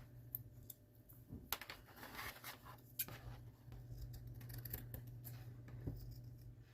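Scissors snip through felt to cut out star shapes, with a series of soft, close cuts and rustles at an irregular pace, quiet overall with no talking.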